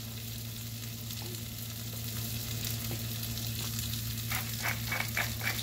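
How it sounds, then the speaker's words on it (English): Potatoes sizzling steadily in a skillet with a constant hiss, while a utensil scrapes and shifts them around in a few close, rattling strokes near the end over a low background hum. "I'm just moving the potatoes around a little bit just to get them kind of cooked."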